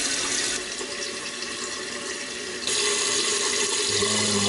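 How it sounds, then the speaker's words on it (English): Toilet tank refilling through its fill valve, a steady hiss of running water that grows louder partway through, with a lower gurgling note near the end and no talking. "It's filling up. Kind of slow if you ask me."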